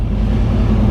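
A Yamaha R1 crossplane motorcycle pulls away hard in first gear, a loud, close, deep engine roar that holds steady for a moment.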